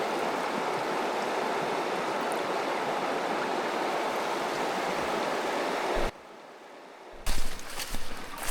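A river in the Québec wilderness rushes steadily and close by while a grouse is rinsed in it. The flow cuts out abruptly, leaving near quiet, then a few brief splashes and handling noises follow.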